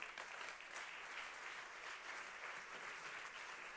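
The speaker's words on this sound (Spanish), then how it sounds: "Un fuerte aplauso" Audience applause at an institutional conference in Seville, dense, even clapping from a large crowd that holds steady from start to finish without any voices.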